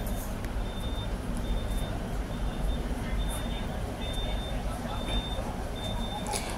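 A bus waits in front of Hong Kong immigration, its engine idling in a steady low rumble while a reversing beeper sounds in regular pulses, with people talking faintly nearby.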